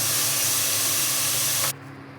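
Cluster beans tossed into a hot dry pan with no oil give a strong, close hiss that holds steady, then cuts off abruptly to a quieter background.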